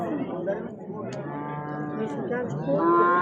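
Cattle mooing at a busy livestock market where cows and young bulls are being sold, several drawn-out moos rising over steady crowd chatter and voices nearby.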